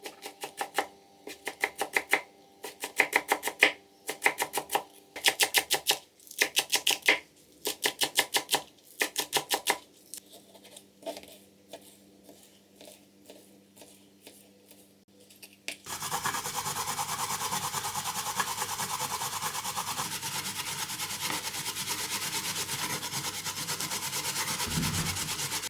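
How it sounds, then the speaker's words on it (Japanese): A drained ingredient for ganmodoki rubbed against a grater, first in quick rhythmic rasping strokes, then slower softer scraping, ending in a steady dense grinding rasp. "それを滑らかに すりおろす"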